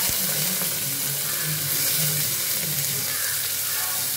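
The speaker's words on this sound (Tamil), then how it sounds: "வெங்காயம் நல்லா வதங்கட்டும்" Onion frying in hot oil with cumin and curry leaves, a dense steady sizzle with occasional stirring scrapes, close and continuous throughout.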